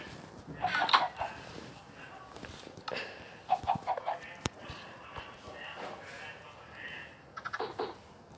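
Minecraft chicken clucking in a survival-at-sea game, with several short clucks and squawks in separate bursts, spread across the stretch amid game clicks and someone talking.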